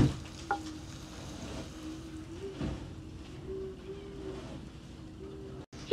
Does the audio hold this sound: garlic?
yes